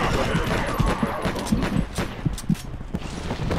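Rapid bursts of gunfire in the video game Battle: Los Angeles, a dense run of close shots and thumps over a rumbling battle background, with no voices over it.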